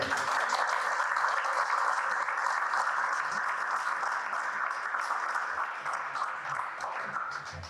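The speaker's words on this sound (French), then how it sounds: "On peut les applaudir." A room of guests at a school association's fundraising gala applauds steadily, a continuous wash of clapping at moderate distance without talk.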